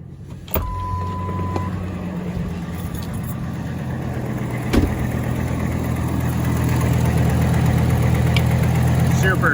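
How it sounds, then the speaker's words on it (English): A Ford Excursion/Super Duty with an exhaust manifold leak idles with a steady, close engine hum that grows slightly louder, and a brief electric motor whir sounds near the start. "You can hear my exhaust manifold leak a little bit."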